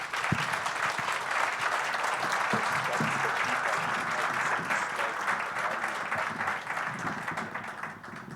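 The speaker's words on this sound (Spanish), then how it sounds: "Por favor, un aplauso aquí." Sustained applause from a conference audience at an international district energy event, dense and steady clapping filling the room for several seconds with a faint murmur of voices underneath.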